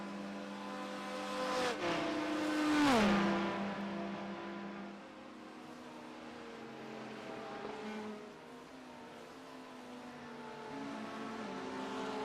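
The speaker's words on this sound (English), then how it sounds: "Great flatline speed out of that Porsche right there." A Porsche GT3 race car at speed on a track, with an engine roar that swells as it passes close and then holds a steady, droning pitch as it pulls away into the distance.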